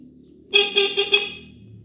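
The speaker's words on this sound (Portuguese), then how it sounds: "É a buzina, Jurandinho." A motorcycle horn, faulty and sounding on its own, honks in four quick, close, bright beeps over a faint background hum, with nothing else heard.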